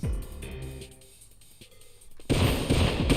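Gunfire in the video game Syphon Filter, in an underground stronghold base level: a quieter stretch of scattered shots, then a loud, dense burst of rapid firing that keeps going to the end.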